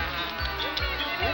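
Buzzing fireflies from the Muppet Madness video game, a steady insect drone with a few swooping tones over game music, fairly constant and close.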